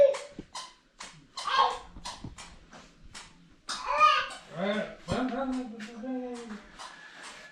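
A dog in a village near Kankavli whimpers and gives short yelps and barks close by. Children's and adults' voices chatter over and around it throughout.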